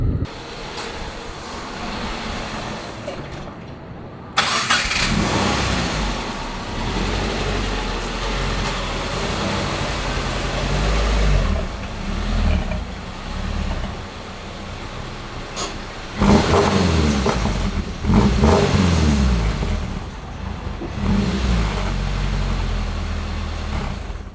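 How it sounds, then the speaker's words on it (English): A motor-swapped Subaru Crosstrek with a 2.5 liter engine runs close by, idling steadily and then revving up in several loud surges before settling back, with no talk. "Clutch is working, the engine's working, and honestly, I'm really happy."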